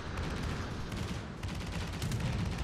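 Continuous naval gunfire in World of Warships as shots are aimed at a New Mexico battleship, a dense, loud barrage of overlapping booms and blasts rolling on without pause.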